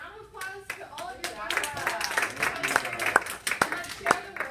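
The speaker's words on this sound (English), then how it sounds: "let's give a round of applause to all of your" A small group claps outdoors after a talk about turtle burrows, a short scattered burst of individual hand claps mixed with chatter and a voice.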